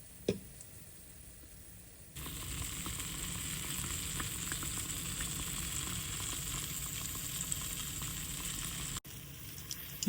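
Jamaican festival dumplings fry in oil in a pot over a low flame, giving a steady close sizzle with faint crackles and a soft knock or two from turning.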